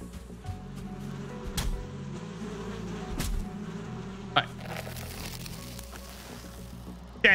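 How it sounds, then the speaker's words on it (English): Bees buzzing around a beehive in the video game Valheim, a steady low insect drone running through the clip with a few sharp game clicks and hits. "Oh, another beehive."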